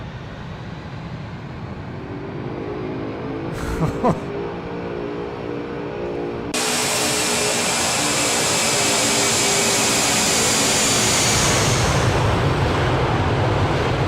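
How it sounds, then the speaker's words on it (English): Boeing 747 jet engines in the X-Plane 12 flight simulator give a steady broadband roar that swells abruptly to a louder, hissing whine partway through and holds, with no speech. "I want to hear the engines on this one."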